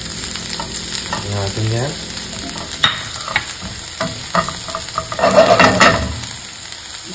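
Garlic fries and sizzles in a pan while a utensil stirs and scrapes through it, the crackle swelling toward the end, with a brief spoken phrase partway through.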